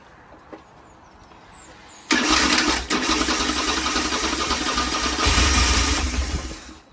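An old, long-neglected motorcycle engine is started, quiet fiddling giving way to a sudden loud rough catch, then a fast uneven buzzing idle that revs up once and runs on unhappily, close to the listener.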